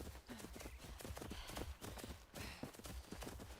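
Goats move about in the video game Enshrouded, a rapid run of hollow hoof clops and thumps over a continuous busy game soundscape.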